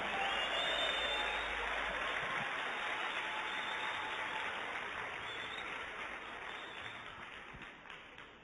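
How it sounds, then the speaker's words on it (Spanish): Sustained applause from a congregation at a Spanish-language Christian service, a thick, steady wash of clapping that slowly softens toward the end, with no talk heard. "Dale un aplauso a Dios."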